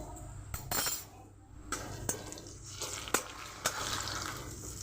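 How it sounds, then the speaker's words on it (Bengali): Ginger-garlic paste fries with onions in a pan of chicken on low heat, a steady sizzle broken by several sharp spoon clinks and scrapes against the pan. "দু মিনিট আদা রসুনের পেস্টটা দিয়ে ভেজে নেবো"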